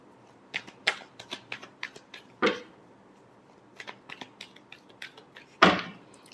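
Tarot cards being shuffled by hand, heard as bursts of crisp riffling flicks and papery slaps in an uneven rhythm, close and clear, with a louder flurry near the end and no speech.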